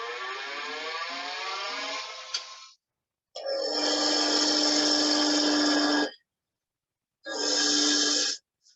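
A wood lathe turns a cracked, checked wooden workpiece as a tool cuts it down, heard as a steady whirring cut followed by two more separate bursts with silent gaps between.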